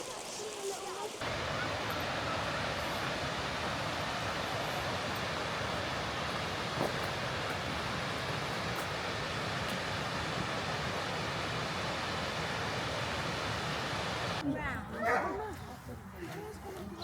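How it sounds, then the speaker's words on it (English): A small waterfall in North Wales rushes with steady broadband water noise throughout, close and continuous, with brief talk and a dog bark in the background. "That's your waterfall."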